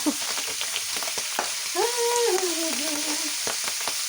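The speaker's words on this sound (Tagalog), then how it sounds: "Nangangagat ang mantika." Hot cooking oil spatters and sizzles in a pan, a dense continuous crackle with a brief tonal squeal partway through, no talking.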